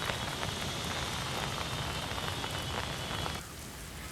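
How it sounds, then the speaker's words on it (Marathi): Heavy monsoon rain pours down in Pune, a dense, loud, continuous hiss of drops on surfaces that drops abruptly to a softer patter near the end. "जोरदार पाऊस पुण्यात बरसतोय"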